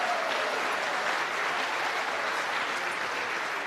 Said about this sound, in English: One more big round of applause for our sponsors and all those specialty awards.